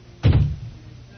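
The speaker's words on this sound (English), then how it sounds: "And now we're slamming doors." A door slams shut with one heavy, close thud that quickly dies away into quiet.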